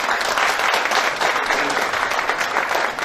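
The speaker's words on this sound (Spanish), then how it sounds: "un aplauso doble para la doctora" An audience at a world congress on gamecocks in Guayaquil claps in a full, sustained round of applause, dense and steady before tapering slightly at the end.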